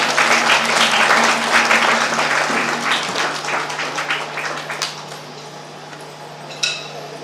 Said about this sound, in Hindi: तालियों से इनका स्वागत करें।